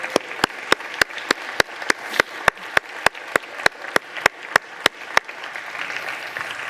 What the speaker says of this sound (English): We should all applaud him.